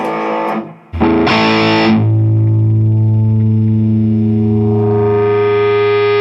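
Loud distorted chords from an Epiphone electric guitar give way to a sustained, swelling feedback tone that rings on and grows brighter over several seconds.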